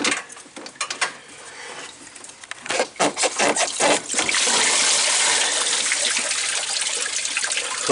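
Coolant draining from a radiator hose into a pan on a 2015 RAM 1500 with the 5.7L engine, first in bursts of splashing trickle, then a steady close rushing pour.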